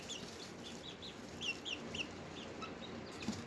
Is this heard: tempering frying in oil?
no